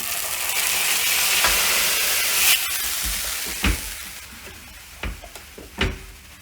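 Tempering of fried garlic stirred into hot green gram porridge (cherupayar kanji) in a pot, a soft steady sizzle with a few distinct scraping stir strokes of a spoon, close and clear, no talking.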